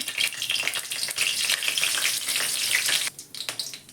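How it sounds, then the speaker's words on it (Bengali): Bay leaves sizzle in hot mustard oil in a wok, giving a loud, continuous crackling hiss that dips briefly before picking back up, with no talking. "কড়াতে সর্ষের তেল দিয়েছি তেজপাতা দিব"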